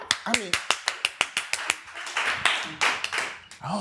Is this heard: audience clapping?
yes